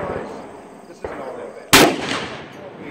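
Gunfire at a shooting session, a soft distant crack followed by one loud, close, sharp blast that rings out and decays, with faint background noise.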